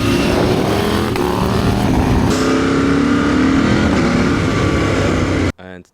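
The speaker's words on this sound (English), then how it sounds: "This is the sound when you do a quick shifter." A KTM 890 Adventure motorcycle with a de-cat Rally Sharon exhaust runs loud and close, a steady engine roar with a quick-shifter blip partway through before cutting off abruptly at the end.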